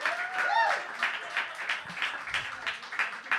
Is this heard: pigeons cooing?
no